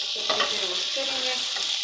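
All-purpose white flour, a couple of tablespoons, roasts in a pan: a steady soft sizzling hiss runs throughout with a few scraping stir strokes, close and continuous with no talk.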